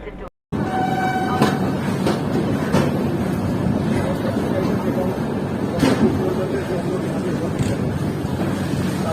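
A double decker express train running near Moradabad Junction, with a steady rumbling clatter of wheels on rails and rhythmic jolts, heard from on board, alongside a parallel Porbandar Express.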